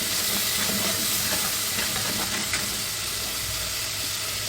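Spices frying in oil in a pot for Hyderabadi sothriya, a steady dense sizzle and hiss lasting throughout, with faint stirring scrapes underneath and no voices.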